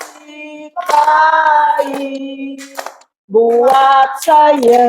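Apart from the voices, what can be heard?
children clapping hands along with a song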